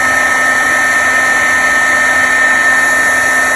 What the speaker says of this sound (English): I'm going to go ahead and turn that on the hairdryer